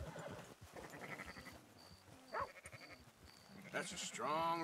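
Sheep bleating in the video game Red Dead Redemption 2, several wavering bleats amid game sounds, partly under someone talking.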